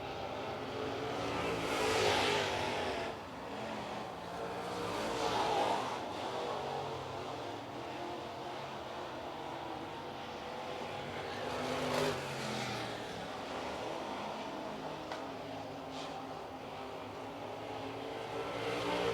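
Late model race cars, including a Longhorn chassis, circulating at speed during qualifying at Cherokee Speedway, a continuous roar of engines that swells several times as cars pass, heard from a distance with no talk.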